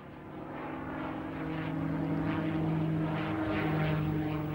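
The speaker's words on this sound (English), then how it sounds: "It was Britain's quest for a new fighter plane to shore up its fleet against Hitler's advances which brought about the P-51 Mustang." P-51 Mustang propeller fighter plane flying, a steady droning piston-engine roar that swells slightly louder as it goes on, continuous and alone without any voices.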